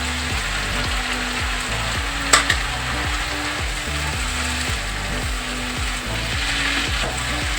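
Potatoes, fenugreek leaves and tomatoes fry over a high gas flame, giving a steady close sizzle with rhythmic stirring scrapes and one sharp clink partway through.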